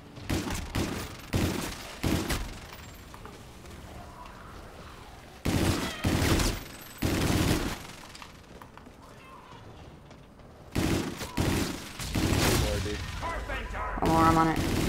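Light machine gun fire in Call of Duty Infinite Warfare's Spaceland zombies mode comes in repeated sharp rattling bursts separated by quieter gaps, while players talk over the game.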